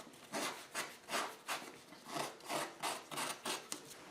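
Sandpaper rubbed by hand across the edge of a wooden segment from a segmented dizzy bowl to remove a burr, with about ten steady, rhythmic rasping strokes, close and alone.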